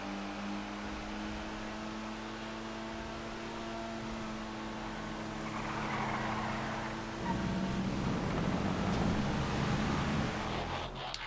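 Drift Yosemite car driving in GTA FiveM, a continuous engine drone with steady low tones that roughens and grows louder partway through, like accelerating, with no voices over it.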